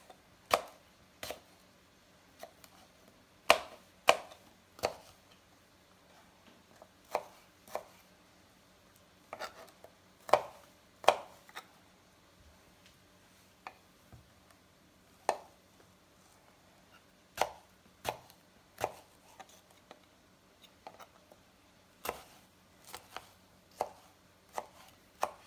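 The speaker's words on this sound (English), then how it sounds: "And then we're gonna cut our tomatoes" Green tomatoes cut with a knife on a board, a series of irregular crisp chops spaced a second or two apart, close and fairly quiet, with no talking.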